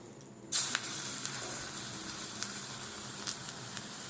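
Lentil fritter batter made from biuli dal goes into hot oil with a sudden sharp sizzle, which then settles into a steady hiss of frying, broken by a few faint crackles and no voices.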